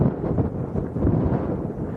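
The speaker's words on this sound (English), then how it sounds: "it's a bit too windy at the minute" Gusty wind buffets an outdoor microphone at Arrecife Airport on Lanzarote, a low rumbling roar that swells and dips unevenly without any voices.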